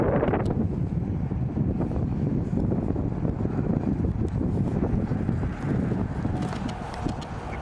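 Cold wind buffeting the microphone outdoors, a steady loud low rumble and rush lasting throughout with no pauses.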